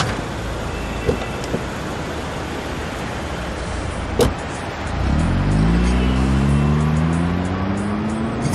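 A taxi drives along with a steady broadband engine and road rumble. About halfway through, the engine note rises and the car seems to accelerate. No one speaks.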